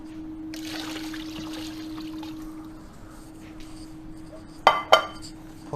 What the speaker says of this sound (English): Pour the boiling water in.